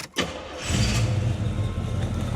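A 1986 Pontiac Grand Prix 2+2 with a small block V8 and 4-speed automatic cranks briefly, then fires and settles into a loud, steady, rumbling idle, heard up close with no talking.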